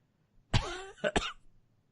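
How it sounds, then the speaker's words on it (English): One harsh, raspy cough followed by two quick shorter coughs, close and fairly loud, with silence before and after. "What a cough."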